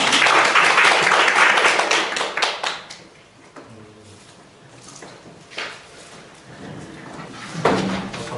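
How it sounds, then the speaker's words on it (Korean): An audience at a lecture claps to welcome the speaker, a loud burst of applause that fades out after about three seconds into quiet room noise with a few small knocks. "일단 박수를 모시죠."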